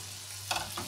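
Figs and persimmons sizzle in a frying pan, a soft steady hiss broken by a couple of quick stirring scrapes near the end, faint and close.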